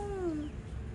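A single peacock call on the road to Dholavira: a short, meow-like wail sliding downward in pitch, fairly clear over a low, rumbling outdoor background.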